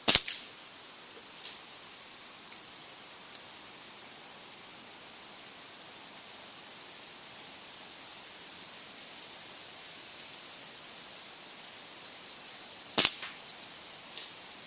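Two sharp, isolated cracks from an HPA-powered QB78 air rifle shooting playing cards outdoors on a windy day, well apart over a steady hiss of wind.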